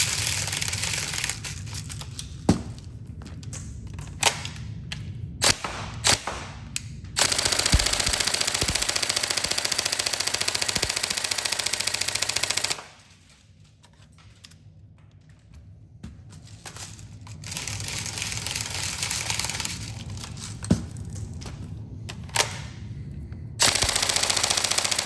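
A TM M4 Next Gen airsoft AEG on a 7.4 volt LiPo fires several long, rapid full-auto bursts, loud and close, with brief semi-auto cracks between them and a quieter pause in the middle.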